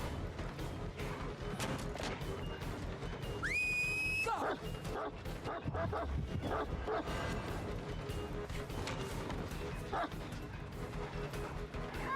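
Houndmaster's dog from the Dead by Daylight video game barks and yips amid dense game audio, with a rising whine-like tone briefly cutting through near the middle and steady background noise throughout.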